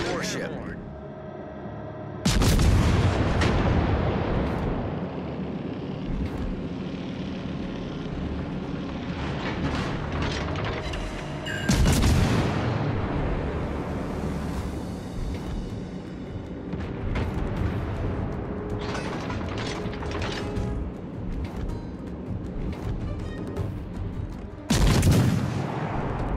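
Naval artillery fire from warships in the video game World of Warships: Legends, with heavy booming salvos at intervals over a dense rumbling battle bed, loud and close, with voice lines at times.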